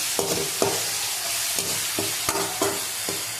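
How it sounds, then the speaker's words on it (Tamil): A spoon stirs cinnamon, cloves and cardamom through softened tomatoes in a pan for chicken gravy. Around eight sharp scraping strokes land at uneven intervals over a continuous close, bright sizzle. "தக்காளி நல்லா வதங்கின உடனே அது கூட பட்டை, லவங்கம், ஏலக்காய் போட்டு நல்லா கிண்டிக்கலாம்"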